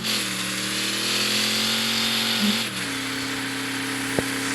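Simulated car engine held at high revs with tires spinning in Car Parking Multiplayer 2, a steady loud drone that drops to a lower pitch after a shift, ending with a short sharp click.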